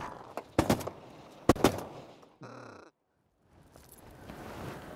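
Shotgun blasts ring out while hunting diving ducks: two loud, sharp reports about a second apart, then a brief ringing burst and a short silence before outdoor ambience returns.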